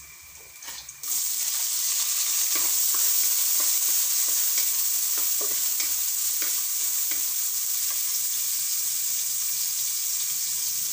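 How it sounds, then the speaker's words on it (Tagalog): Onions sauté in a hot pan for Filipino ginataang kalabasa, a steady loud sizzle that kicks in after a quieter first second, with scattered stirring scrapes and clicks throughout and no voices. "Ilagay na natin yung sibuyas."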